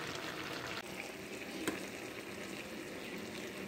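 Mustard seeds and cumin sizzling in a hot pan in a home kitchen while a Bengali chachchari of beans, potato, eggplant and gourd shoots cooks: a steady, close hiss of frying with no break.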